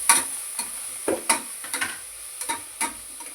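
Three medium tomatoes and salt frying in a pan, heard as a scatter of sharp, light taps and clicks over a faint, soft sizzle, with no voices.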